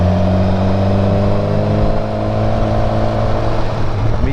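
BMW S1000XR motorcycle engine running steadily on a test ride, a loud close drone with steady harmonic tones and slight shifts in pitch, rising a little toward the end, with no talk.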